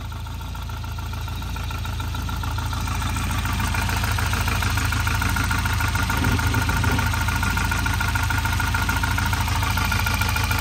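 A Volvo 940 Turbo engine idles steadily and unevenly, a low continuous rumble with a rough, knocking texture running throughout, fairly close.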